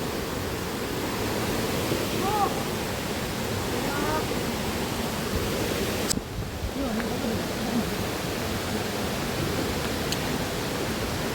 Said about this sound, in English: Waterfall that is a waterfall.